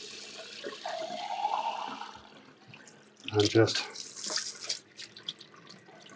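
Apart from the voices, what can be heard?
rinsing squid tube under running cold tap water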